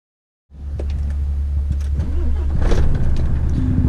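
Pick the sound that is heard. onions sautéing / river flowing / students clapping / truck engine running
truck engine running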